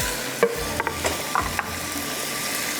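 Ginger and green onions fry over high heat in a pan, a steady sizzle broken by a handful of sharp scrapes and clinks from a stirring utensil, close and with no voices.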